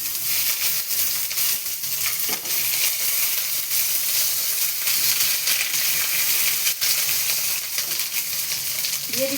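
Chopped ginger frying in a pan with cumin, dry red chilli, whole garam masala and bay leaf for a sabudana dish makes a loud, continuous sizzle with occasional stirring scrapes, close by and without talk.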